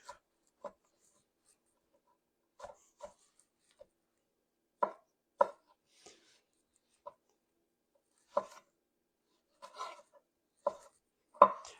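A knife chops kielbasa into decent-sized chunks on a board, giving sparse, sharp, close knocks in irregular single and double strikes with quiet gaps between them.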